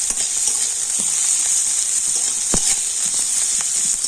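Onion and two green chillies fry in a pan with whole cumin, giving a close, steady sizzling hiss broken by a few soft scrapes and clicks from stirring, with no speech.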